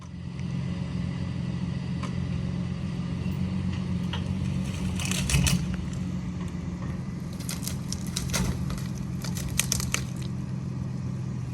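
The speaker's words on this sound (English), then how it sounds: "I have the chain hooked up to the shrub, up to my truck." A truck engine idles low and steady while a chained shrub is pulled from the ground, with crackling, snapping bursts of roots and branches midway.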